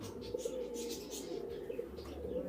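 A small male pigeon at a pigeon farm coos softly and repeatedly at close range, low throaty calls over a quiet background with a few faint chirps.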